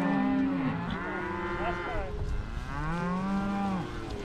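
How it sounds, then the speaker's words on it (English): Several cattle on a ranch moo in long, loud, close calls, two main drawn-out bellows with rising and falling pitch filling the stretch, against faint outdoor background noise. "There's one more of them cows in here."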